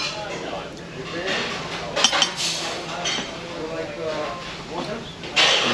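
Cutlery scraping and clinking on a plate while a steak is sliced at a grill restaurant on a cruise ship, soft repeated scrapes and a few sharper clinks under talk and dining-room chatter.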